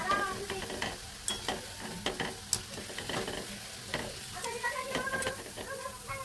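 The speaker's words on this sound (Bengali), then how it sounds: "আমার এটা ভাজা হয়ে গেছে প্রায়।" Sweets fry in a pan with a constant crackling sizzle, broken by frequent close scraping and clinking stirring strokes, with no voices.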